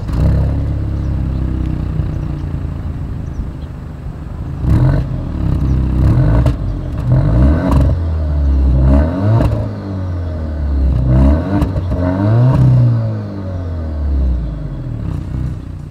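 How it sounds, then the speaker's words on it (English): A 2024 Alfa Romeo Giulia's exhaust idles with a low steady rumble, then barks through several sharp revs that rise and fall in quick succession, loud and close with no talking. "Here is that exhaust clip."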